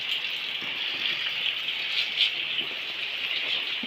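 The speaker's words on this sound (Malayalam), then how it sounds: "ഇപ്പം മഴയാണ്" Steady rainfall hissing down on surfaces nearby, an even, continuous patter with no voices, moderately loud throughout.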